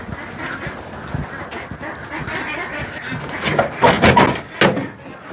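A flock of farm ducks on a family duck farm in Laos, a few quacking calls bunching up near the end over a steady background of rustling and faint voices.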